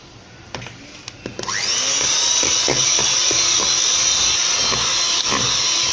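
A few light knocks and clicks, then an electric hand mixer starts up and whirs loudly and steadily as eggs are beaten into butter cake batter.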